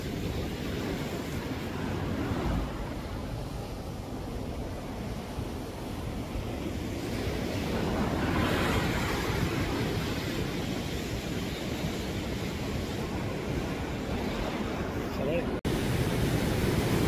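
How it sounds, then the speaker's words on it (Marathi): Foaming sea surf washing onto the shore at Dublin, Ireland, a steady broadband roar with gusty wind buffeting the microphone, continuous and fairly loud throughout. "सुंदर असा माझ्या मागे फेसाळलेला समुद्र आहे"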